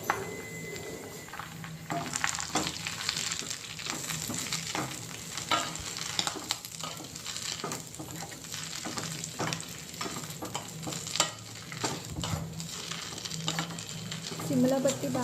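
Drumstick leaves and cut raw mango pieces fry in a pan on low flame, making a dense, close sizzle broken by frequent stirring scrapes and clatters, with no voices.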